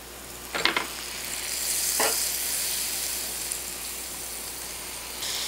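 Butter sizzling in a hot frying pan while Irish boxty potato pancakes are cooked, a steady soft crackle and hiss with a few brief clinks of a utensil against the pan.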